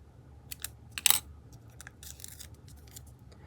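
Scissors snipping through faux aged paper tape at a crafting table, a few crisp metallic snips, close and fairly quiet, with light handling noises between them.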